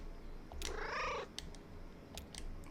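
A single drawn-out cat meow from the video game Kentucky Route Zero, clear and fairly close, followed by a few faint short chirps and clicks against a low hum.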